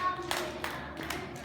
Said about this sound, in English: Now we clap the rhythm.